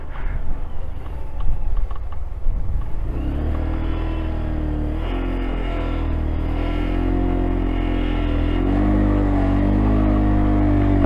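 A motorcycle strains up a steep mountain slope in first gear in Zanskar, Ladakh: a steady loud engine drone that builds and holds as the bike pulls uphill, with no talk.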